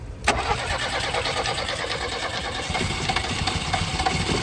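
A Zhiguli (VAZ) car with a completely dead battery, jump-started with booster cables, cranks briefly and fires, then settles into a steady, close, loud engine run with no talk.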